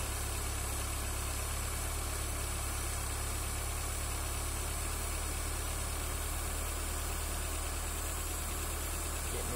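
A Toyota 4AGE engine idles with its idle air control valve, giving a loud, steady, close-up hum with constant mechanical vibration and no pauses.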